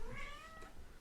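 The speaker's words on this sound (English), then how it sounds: "Lexi feels like she has free reign to just meow into the microphone" A cat named Lexi meows close into a microphone, one drawn-out, wavering meow filling about a second, loud and alone without talk.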